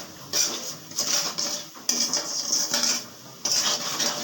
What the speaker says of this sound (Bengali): চালটা এরকমভাবে ভেজে নেবেন ভালো করে।